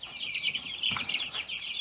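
Meat chickens cluck and squawk in agitation, several birds' calls overlapping in a fairly faint, continuous chatter close by.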